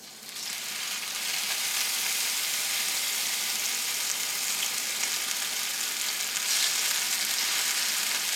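Pork chops fry in a hot pan after a soy sauce and ground ginger mixture, giving a steady, dense sizzle that starts softly and holds loud and even throughout, with no talking.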